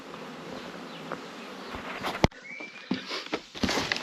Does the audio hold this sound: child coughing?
no